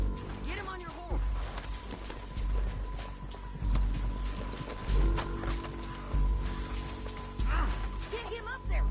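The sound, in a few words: horse in video game Red Dead Redemption 2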